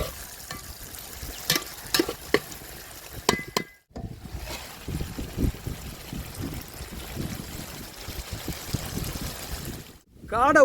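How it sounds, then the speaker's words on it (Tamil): Cleaned, scored quail pieces fry in oil without water for Kaadai uppu kari, giving a continuous crackling sizzle with stirring clatter; a brief quiet gap falls in the middle and another near the end. "தண்ணியே ஊற்றாம ஆயில்ல நல்லா பொரிச்சு எடுத்துருக்கோம்"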